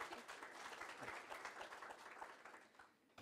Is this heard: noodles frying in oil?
no